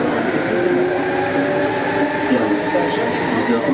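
Inside the cab of a Lyon metro line B train, rolling along the line with a loud, steady rumble and hum, faint squealing tones and occasional clicks, under a continuous background wash.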